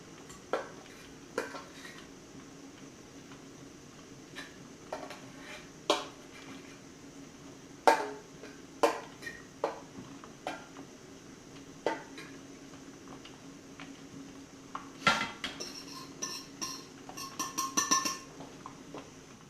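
Bread rolls dropped one by one onto a plate: scattered, sharp knocks and clatters spaced a few seconds apart, growing into a denser cluster of rattling near the end, in a quiet kitchen.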